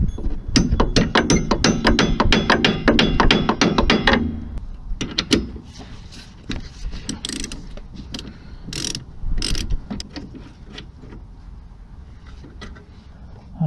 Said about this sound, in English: This may need to be hammered on due to the amount of corrosion that's taken place over the years.